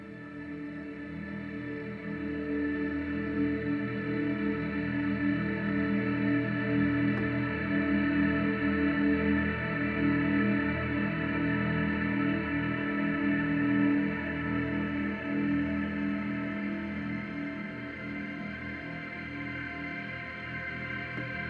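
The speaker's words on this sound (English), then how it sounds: "It's a really long reverb." A sustained, washy tone smeared by a very long reverb tail made from a massager impulse response, droning steadily for many seconds before slowly thinning out.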